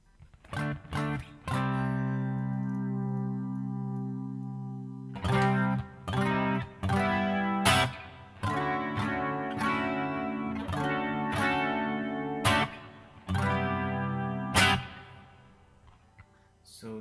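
Electric guitar chords played through the chorus effect of a Zoom G1Next pedal ring out shimmering, in bursts with sustained notes and pauses between phrases.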